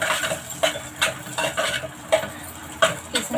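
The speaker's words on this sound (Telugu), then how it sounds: "ఫ్రై అయిపోయిందండి. ఇప్పుడు కిస్మిస్ వేద్దాం." Raisins fry in a pan for a dry semiya dish, stirred with a utensil that scrapes the metal in a steady rhythm of about eight strokes over a light sizzle.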